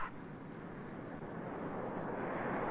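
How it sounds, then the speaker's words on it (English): A Douglas DC-8 jet airliner starting its takeoff roll, heard as a steady, dense jet-engine rumble and roar that swells gradually, continuous and fairly loud with no voices. "The captain pushes the throttle, and the big jet starts off."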